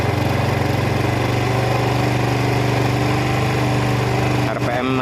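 A small motorcycle engine of the Vega, Jupiter or Mio type, after valve adjustment, held at its highest revs with a steady, loud buzzing drone that drops away abruptly near the end.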